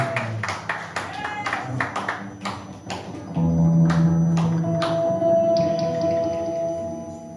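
Scattered, uneven hand claps from a church congregation acclaiming, sharp and near at first, then thinning out under a sustained tone and voices.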